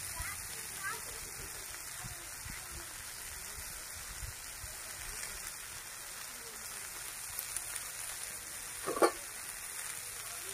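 Ivy gourds frying in hot oil with green chillies and coriander in a village kitchen give a steady soft sizzle and crackle throughout, with faint stirring clicks and occasional bumps in the background.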